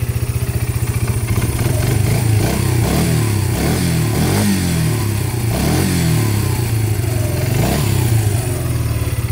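A Yamaha Breeze 125 ATV engine runs close and loud, with a steady chugging idle that rises and falls through a few revs, and there is no talking.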